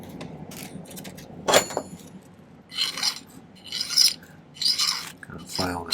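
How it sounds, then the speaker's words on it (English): A hand file scrapes across the end of a silver wire in several separate short strokes, each a close, raspy burst with brief pauses between, alone without talk. "file this other end flat again so we get a closer to an exact measurement"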